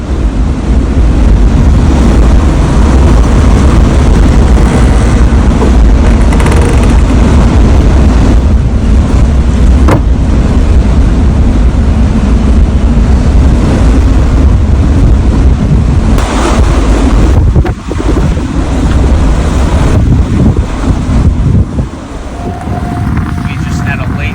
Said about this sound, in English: after dark, the wind picked up